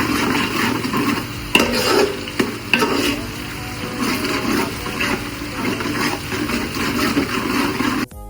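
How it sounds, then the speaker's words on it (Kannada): Food frying to golden brown in a pan for mutton biryani sizzles loudly and continuously close up, with occasional spoon scrapes and clinks, then cuts off sharply at the end. "ಇದನ್ನ ನಾವಿವಾಗ ಗೋಲ್ಡನ್ ಫ್ರೈ ಆಗೋ ತನಕ ಸ್ವಲ್ಪ ಬಾಡಿಸ್ಕೊಳ್ಳೋಣ"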